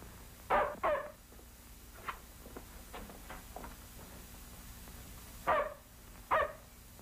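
A dog barks in scattered bursts, two sharp barks, a few softer yips, then two more loud barks, heard fairly close in an otherwise quiet setting.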